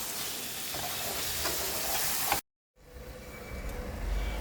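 Spices cooked with lemon juice fry and are stirred in a pan for chicken pathia, a steady close sizzle with scraping, cutting out briefly before the frying resumes.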